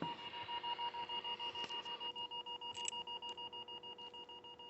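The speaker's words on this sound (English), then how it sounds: "I forget these radios have a timeout timer" Rapid steady beeping from the timeout timer alarm of a new President Bill CB radio, a fast regular pulse of electronic tones repeating throughout at moderate level with no talk.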